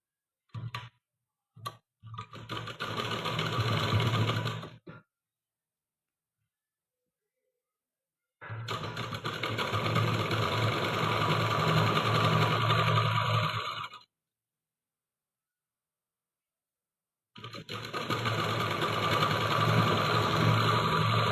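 Electric sewing machine stitching a salwar seam, running in three loud sustained bursts of rapid whirring with quiet pauses between, preceded by a few short starts.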